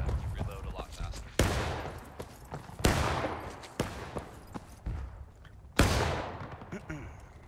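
Musket volleys in the War of Rights game during a 100-player fort defence battle at Harpers Ferry, Bolivar Heights: five loud, booming discharges spaced about a second apart, each trailing off in a long echo, with voices in between.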